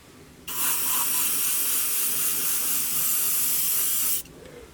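Airbrush or aerosol spray of paint onto an Airfix 1/72 Jet Provost plastic model, a steady close hiss that starts abruptly and runs continuously for several seconds before cutting off, with no talking.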